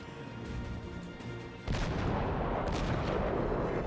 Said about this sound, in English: I'm going to just fire off my cannons individually to try and get a bearing on them.